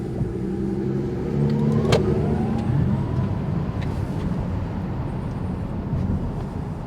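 A Tesla electric car accelerating hard through traffic, a steady broadband whoosh of road and wind noise building from inside the cabin, with no voices.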